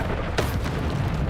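Bombarda explosion spell in the Hogwarts Legacy video game: a deep, rumbling boom with a sharp burst near the start, carried by a continuous heavy low roar of game sound throughout.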